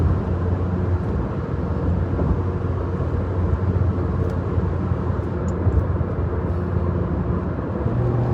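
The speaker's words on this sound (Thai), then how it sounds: "ตอนนี้ฟังเสียงท่อไปก่อนนะ ฟังเสียงท่อไปก่อน" A 2020 Honda City fitted with an AZC exhaust and a mild street tune pulls away under acceleration, its engine and exhaust giving a steady, loud, broad roar that holds evenly throughout with no talking.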